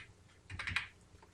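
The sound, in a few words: typing the wallet PIN on a computer keyboard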